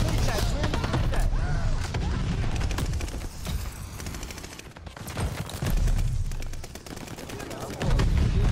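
Rapid gunfire in the Call of Duty Vanguard video game, dense automatic bursts and booms that run almost without a break, loud and close, with a voice speaking over the shooting.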